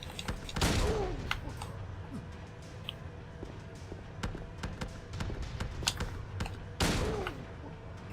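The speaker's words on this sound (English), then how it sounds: "Maybe let's switch back to the rifle." Rifle gunfire in the video game Silent Hill 2 Enhanced Edition, Labyrinth area: two loud, sharp shots a few seconds apart over a low, murky game ambience with small clicks and thuds between them.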